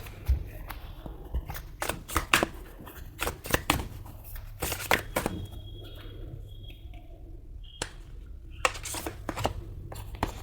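A deck of tarot cards is shuffled by hand in repeated quick riffles and taps, close and crisp, with irregular bursts of flicking and brief pauses, and faint birdsong far off in the background.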